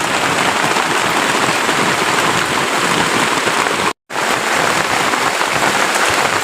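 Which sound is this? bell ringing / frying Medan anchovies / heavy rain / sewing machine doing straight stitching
heavy rain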